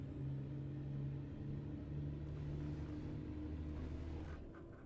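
A truck engine in American Truck Simulator rumbles deep and steady, its low tones climbing and then dropping back as it works through the gears, heard close without speech.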